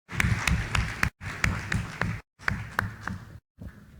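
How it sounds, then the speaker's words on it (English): Applause at a conference comes in choppy bursts with sharp individual claps, broken by abrupt silent gaps between segments. "Please, a round of applause."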